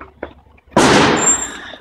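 Fireworks fired from a mosque at passers-by on the road below, a single sharp loud burst with crackling and fizzing tail, preceded by brief muffled voices and quiet background noise.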